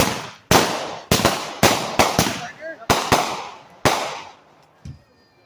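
July 4th fireworks going off in a quick series of about ten sharp, loud bangs, some in close pairs, each trailing into a crackling decay, followed by a fainter pop near the end.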